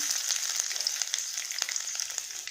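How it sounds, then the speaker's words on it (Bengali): Mustard seeds and garlic frying in hot oil, a steady close sizzle with quick crackling pops scattered throughout. "তেলটা গরম হয়ে গেছে, দিয়ে দেবো সর্ষে আর দিয়ে দেবো রসুন"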